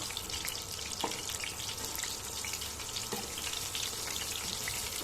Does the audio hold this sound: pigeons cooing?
no